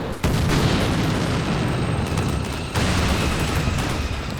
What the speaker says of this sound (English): Machine gun fire on the building on the right.